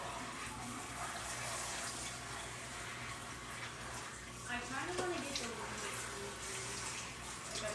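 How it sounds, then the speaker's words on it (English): Running tap water splashes steadily over a tie-dyed shirt as it is rinsed, a continuous broadband gush with slight shifts as the fabric is moved around under the stream. "You just keep moving it around, rinsing different areas."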